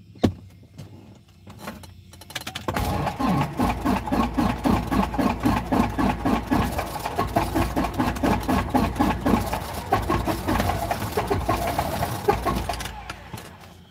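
A light aircraft's piston engine is cranked and started during pre-flight. After a few brief sputters the engine catches and runs with a close, steady, pulsing chug, then winds down near the end.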